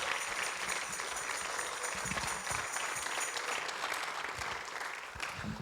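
A church congregation at a bilingual worship service fills the room with continuous loud applause for the Lord, a dense, sustained wash of clapping with no voices standing out.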